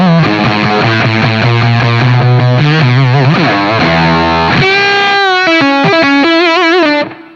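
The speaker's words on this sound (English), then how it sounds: "Check this out, here's the octafuzz." Electric guitar run through an octafuzz pedal into a Jared James Nichols signature Blackstar amp head and cabinet: loud, thick, buzzy fuzz with sustained chords and bending notes, then higher octave-tinged single notes that cut off near the end.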